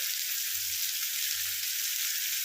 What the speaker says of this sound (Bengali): এতে আমি একটু নুন দিয়ে দেবো, যাতে তাড়াতাড়ি মরে যায়, পেঁয়াজটা তাড়াতাড়ি ভাজা হয়ে যায়